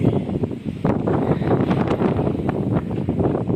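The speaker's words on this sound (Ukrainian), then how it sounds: "Сильний, сильний вітер." Strong wind gusting across a home garden, buffeting the microphone with a dense, steady roar and rustle that swells in short bursts throughout, with no voices.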